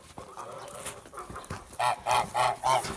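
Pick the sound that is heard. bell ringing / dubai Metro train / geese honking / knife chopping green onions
geese honking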